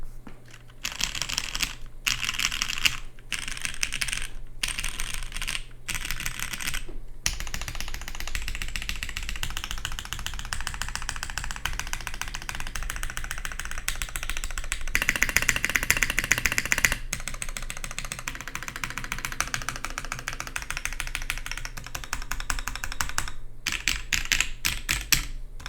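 Steady, fast typing on a DBD x GSD CCRE prototype mechanical keyboard, dense clacking keystrokes running nearly the whole time with a few brief pauses early on and a low constant hum underneath.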